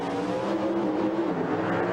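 A 1991 NHRA Pro Stock final: Dodge and Oldsmobile drag race cars, one with a DRCE engine, launch with a loud, sustained, high-revving engine roar and no break in the noise.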